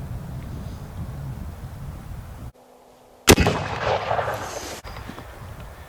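A single loud, close gunshot cracks from a .56 caliber Colt revolving carbine firing a conical bullet, breaking a quiet stretch and trailing off in a noisy decay.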